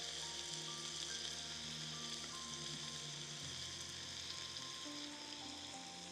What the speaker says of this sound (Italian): Come vedete la salsiccia si sta rosolando ed è anche più piccolina, a pezzetti più piccoli.